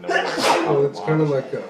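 A single sharp sneeze bursts out among people talking at a board game night playing Chicago Express, close and loud, with voices before and after it.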